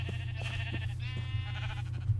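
A blocky sheep in Minecraft gives a couple of wavering bleats close by, a brief pause between them over a faint steady hum.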